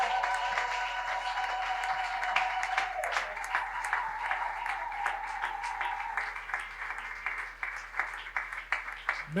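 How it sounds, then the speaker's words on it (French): A church congregation applauds together, a sustained dense clapping that holds steady throughout with a faint tonal hum underneath. "Aidez-moi à honorer Papa Germain Kalenga sous vos applaudissements."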